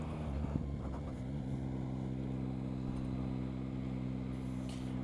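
A Yamaha XSR motorcycle engine hums steadily while riding, a low droning note with wind rush over it, constant and close throughout.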